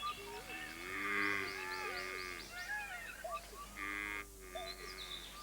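Stray cattle moo in a park, several drawn-out lowing calls at moderate distance, overlapping with faint bird and frog sounds in the background.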